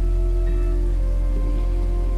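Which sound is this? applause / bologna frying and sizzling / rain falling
rain falling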